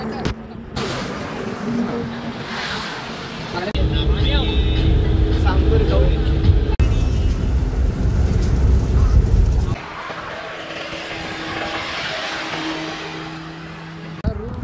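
A car travels along the Solapur highway, a loud low road and engine roar that swells in the middle and eases off, with people talking over the drive.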